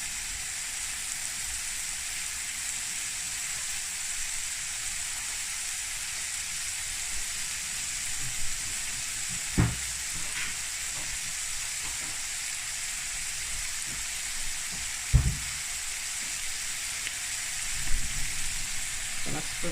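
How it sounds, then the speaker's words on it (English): Vegetables for pumpkin soup sautéing in a pot, a faint, steady sizzle with a few soft knocks and stirring sounds scattered through it. "So you just let these saute for a few minutes."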